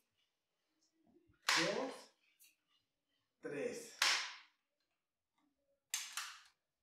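A multi-pump air rifle being pumped in three strokes, each a loud, whooshing mechanical burst separated by short pauses, with a voice counting along.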